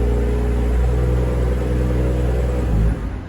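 A 2021 BMW M340i xDrive engine idles steadily after a remote start with a low, even rumble, then shuts off near the end and the sound drops away. No one speaks.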